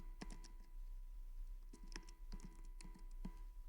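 Quick clusters of keystrokes on a computer keyboard while entering code into a canvas app editor, with light clicks in short bursts and pauses, close and quiet over a low steady hum.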